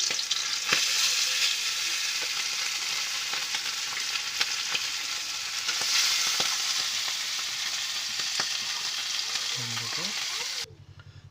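Bhola fish frying in oil in a pan, a steady loud hiss and crackle with occasional sharp pops and a brief stirring clatter near the end, heard close up.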